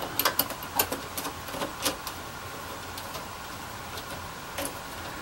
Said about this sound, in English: Alright, so just gotta take these screws off.